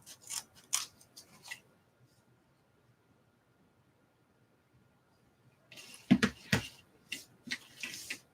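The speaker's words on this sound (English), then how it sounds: "If you have good scissors and good ribbon, then you can cut multiple pieces at the same time." Sharp scissors snip through ribbon, several pieces at once, in two clusters of crisp, close cuts separated by a few seconds of near silence.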